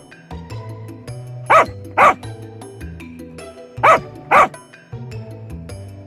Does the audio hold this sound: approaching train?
no